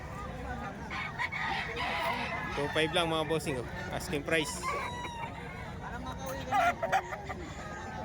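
Roosters crow repeatedly amid the bustle of a chicken market, several overlapping calls near and far, while people talk over them throughout.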